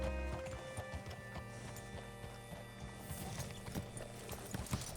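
Horse hooves clip-clopping at a steady walk in Red Dead Redemption 2, close and continuous under dense game ambience with occasional snorts and tack rattles.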